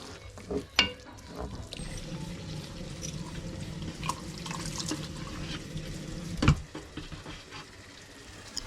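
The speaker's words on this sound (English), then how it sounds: "I'm adding in water" Water pours steadily into a cooking pot of hot drained beans in a home kitchen, a continuous splashing wash with a couple of sharper clinks near the start and again later.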